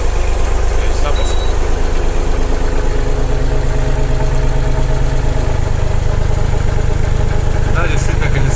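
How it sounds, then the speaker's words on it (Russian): A loud Japanese mini tractor engine with an enclosed cab running steadily at idle up close, a continuous low chugging drone with a faint high whine, no clear voices over it. "Давайте запускать трактор."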